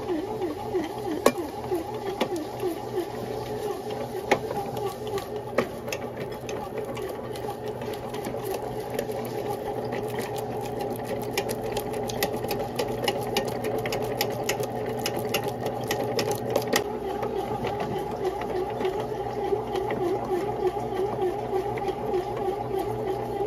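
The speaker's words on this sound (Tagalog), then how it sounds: "Pag huminto na po itong machine, hayaan mo lang natin ng ilang minuto po dito para mag-rise up." A bread machine kneading doughnut dough with butter added runs as a steady close mechanical whir with a rapid rhythmic churning pulse, continuous throughout, with no voices.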